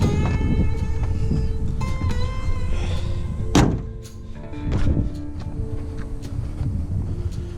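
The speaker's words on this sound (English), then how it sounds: "Go ahead and shut this hood." Hood of a 2001 Ford F350 Harley-Davidson conversion pickup slammed shut outdoors, a single loud metallic thunk standing out from steady wind and background noise.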